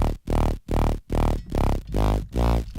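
A heavy, distorted dubstep bass, run through two distortion stages and then OTT compression, pulses in six loud, buzzing, evenly spaced wobbles separated by short gaps, with no talking.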